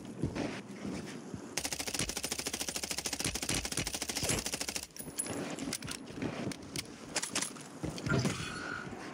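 Rapid automatic gunfire from the MTZ weapon in a video game: a fast, even stream of loud shots with a brief pause, followed by scattered mechanical clatter.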